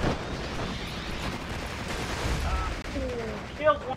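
Rocket fire in the WWII strategy game Steel Division II, a rumbling barrage of blasts and booms with crackling gunfire, dense and continuous, with a brief voice near the end.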